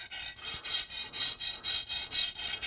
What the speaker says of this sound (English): And you're hearing that stone dry up again, just fine.